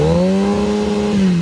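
A Cowie motorcycle engine held at a loud, steady, close rev, its tone dipping slightly and rising again over a second and a half, with no talk over it.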